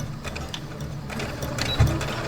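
A sewing machine stitches felt at a stitch length of about 3.5, a steady close mechanical whirring with rapid rhythmic ticking and one brief thump near the end.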